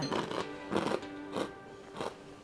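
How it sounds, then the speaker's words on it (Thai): Crunchy fried snack with a truffle aroma, served at a Hong Kong Chinese restaurant, is bitten and chewed close up: four loud, crisp crunching bursts at a steady rhythm, with no talking. "น่าจะเป็นแบบว่ากรุบกรอบเคี้ยวกันเล่น ๆค่ะ"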